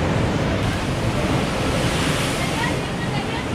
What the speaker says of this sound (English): Massive swells out there.